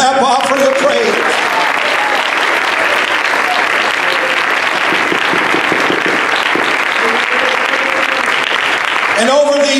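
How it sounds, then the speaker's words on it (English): A church congregation claps hands in praise, loud and dense, a sustained wash of applause with voices faintly at the edges and a voice speaking over the final moment. "Give the Lord a hand clap offering of praise."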